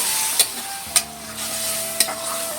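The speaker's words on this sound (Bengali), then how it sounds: "এরপর আমি দিয়ে দিচ্ছি থোর সেদ্ধটাকে, দিয়ে হালকা নাড়াচাড়া করে নেব" A spoon stirs boiled banana stem through spiced masala in a pan, giving a soft steady sizzle punctuated by a few sharp scraping clicks against the pan.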